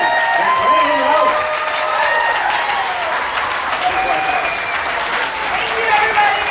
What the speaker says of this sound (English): All right, let's hear it for our guests today, Alainna Huffman, Sam Huntington, and Brando